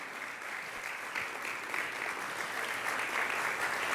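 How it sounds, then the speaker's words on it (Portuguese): A church congregation applauding, a dense, continuous wash of many hands clapping that swells slightly and holds steady, fairly loud and full, with no one speaking over it. "dá um aplauso ao Senhor pela vida dele"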